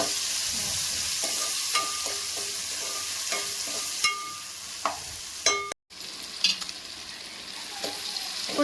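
Chopped tomatoes frying in a pan for chicken curry make a steady soft sizzle, broken by several sharp clinks and scrapes of a spoon stirring against the pan, close and without speech.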